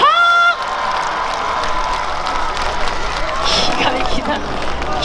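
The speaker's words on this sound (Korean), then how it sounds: "박수와 함성 소리 한 번 내주시겠습니까?" Outdoor audience at a spring cherry blossom festival by Bulgwangcheon stream in Eunpyeong claps and cheers in a loud, sustained burst of applause and shouting after a short held tone fades.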